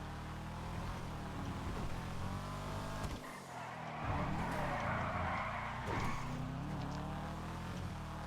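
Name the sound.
Karin Calico GTF car engine revving in GTA video game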